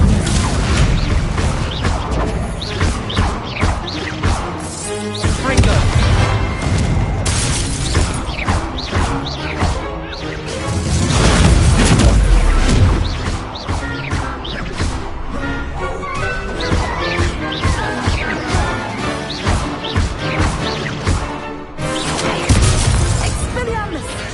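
Incendio and Stego spell blasts crackle and boom through a Hogwarts Legacy duel, dense bursts, crashes and whooshing impacts layered with game music and shouted voices for the whole stretch.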